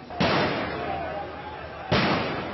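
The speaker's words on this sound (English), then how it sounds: "as protesters let off fireworks" Two sharp firework bangs go off in a street during a protest, each a loud, close crack with a decaying crackly tail, spaced under two seconds apart.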